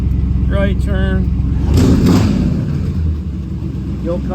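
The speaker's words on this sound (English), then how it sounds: "The old car sounds good too" A 1955 Oldsmobile 88 fitted with a 350 engine and 700R4 transmission idles with a steady low rumble, close by, while someone talks over it throughout.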